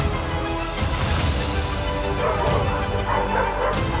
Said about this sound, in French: c'est une meute de chiens polaires